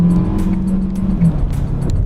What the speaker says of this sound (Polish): Sprawdzimy sobie teraz, jak samochód przyspiesza na autostradzie.